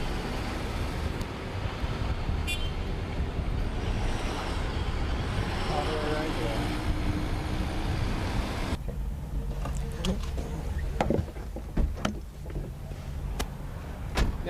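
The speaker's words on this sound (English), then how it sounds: "this sound we're hearing is just the rubber on the concrete" Tire rubber rolling on a concrete road inside a Think City electric car, a broad continuous road roar with wind buffeting, then quieter interior with a few knocks and bumps toward the end; people talk over it.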